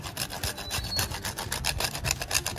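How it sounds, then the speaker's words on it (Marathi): Half a nutmeg grated by hand for wholemeal wheat and jaggery laddoos, giving a steady, close rasping scrape in quick repeated strokes with no talking. "हे मी जायफळ, अर्ध जायफळ पिसून घालणार आहे"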